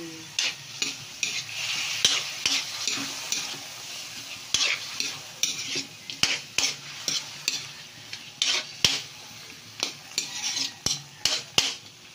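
Vegetables frying in a pan with Silver Swan soy sauce added, a constant close sizzle broken by repeated clinks and scrapes of a utensil stirring against the pan.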